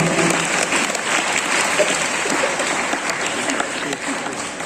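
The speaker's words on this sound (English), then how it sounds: "Give her a big hand of" Steady audience applause at a school principal's speech during a panel inspection, a dense continuous wash of clapping from a large crowd that holds evenly throughout with faint voices mixed in.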